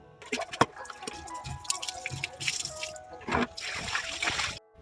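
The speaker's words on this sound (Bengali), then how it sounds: "বাইরে এসে ঘর মোছা নেতাটা ধুয়ে নিলাম আর বাবার ওই ফুল গাছগুলোতে জল দিয়ে দিলাম" Water splashing and trickling outdoors while a floor-cleaning cloth is rinsed and flower plants are watered, with irregular splashes, drips and pouring bursts close by.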